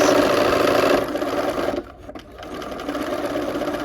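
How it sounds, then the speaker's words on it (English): A sewing machine runs fast and loud, close up, while stitching a seam on a kaleidoscope pinwheel quilt block, briefly slowing and dipping near the middle before resuming its steady whir. "as I'm starting to sew, my first seam is hitting about where those 2 pieces of fabric intersect"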